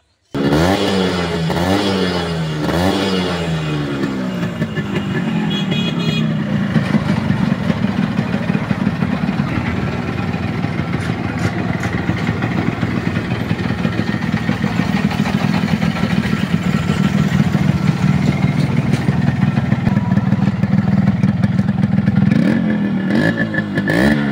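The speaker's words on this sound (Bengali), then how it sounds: "এই বাইকের সাউন্ডটা দেখে নিন সাউন্ডটা দেখাচ্ছি আপনাদেরকে" A modified Yamaha RX 100 two-stroke motorcycle runs close by, its engine revving up and down several times early on, then settling into a steady, rattly idle with occasional small blips; no talk.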